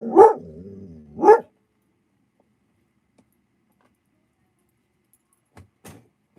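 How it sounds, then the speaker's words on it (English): A dog barks twice in close succession, loud and near, in a quiet room while painting; then silence with a few faint clicks and knocks. "Don't bark at children like that."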